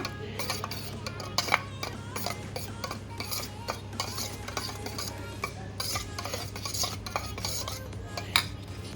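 A spoon stirring turmeric into paneer butter masala in a pan: rapid, repeated metallic scrapes and clinks against the vessel, close and busy, over a steady low background hum.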